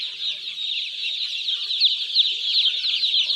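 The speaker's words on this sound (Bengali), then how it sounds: "এখন যে টাইগার মুরগির বাচ্চাগুলো দেখতে পাচ্ছেন এগুলো অরিজিনাল সিপিএফটি টাইগার" Tiger breed chicken chicks chirp nonstop in a dense, high-pitched chorus of overlapping peeps, close and fairly loud, with no voices heard.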